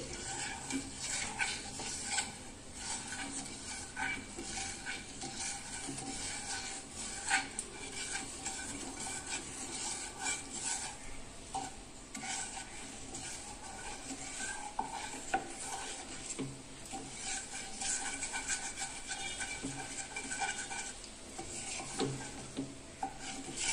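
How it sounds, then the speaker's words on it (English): Cream and sugar being slowly stirred in a pan over low heat for panna cotta, a continuous soft scraping and rubbing of the spoon against the pan bottom, with faint low sizzling and no talk. "Just mix this till the sugar gets melted."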